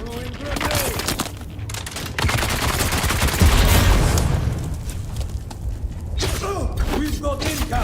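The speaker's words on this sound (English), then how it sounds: "Throwing grenade." A grenade goes off in the desert survival game Dune Awakening, a loud boom rolling out amid continuous gunfire and mechanical clatter, with a voice talking over the fight.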